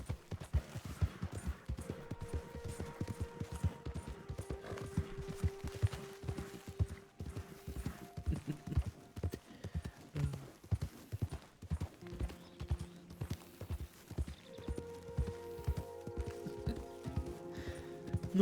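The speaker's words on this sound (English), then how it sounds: "Ooh, horsey, ooh." Horse hooves clip-clopping in a quick, even rhythm that keeps going throughout, with music in the background and faint tonal sounds overhead.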